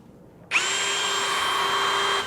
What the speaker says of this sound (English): Pilot holes drilled